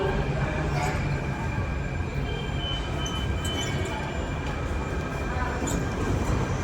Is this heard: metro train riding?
yes